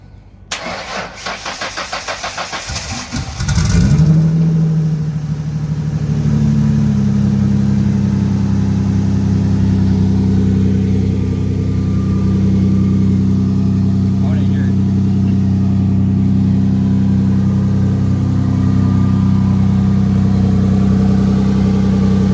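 A turbo V6 Mustang cranks with a rapid starter whir for a few seconds, catches with a loud burst, then settles into a steady, rumbling idle with a slight rise in revs, while people talk over it.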